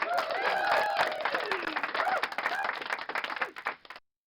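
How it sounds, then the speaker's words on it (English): Audience applause in a live web-development workshop session, a dense burst of clapping that tapers off over a few seconds, with some talk mixed underneath. "Let's get you another round of applause."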